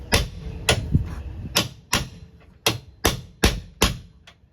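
Sharp, close hammer blows drive parts into place on a workbench, about eight distinct metallic strikes spaced unevenly, each ringing briefly before fading, with no talking.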